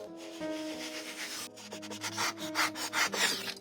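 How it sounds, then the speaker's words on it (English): A square piece is cut from wood to fit inside a small wooden box, heard as close, uneven rasping and rubbing strokes that grow choppier toward the end. "Basically, I'm cutting a square shape that'll fit into the box."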